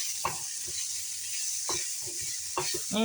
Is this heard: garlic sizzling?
yes